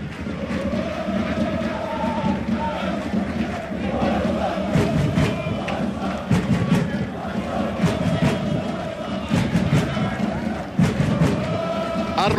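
AEK Athens supporters fill a stadium with a loud, continuous roar of crowd noise and clapping at a 2007 UEFA Cup match against Mladá Boleslav, sharp bursts rising through the din.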